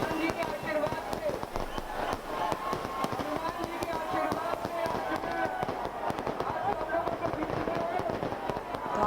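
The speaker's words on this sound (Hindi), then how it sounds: "तो आतिशबाजी और मानो जैसे दिवाली मनाई जा रही हो" Fireworks and firecrackers crackle and pop in dense, rapid bursts throughout a crowd celebration of a release, with loud voices shouting over the continuous barrage.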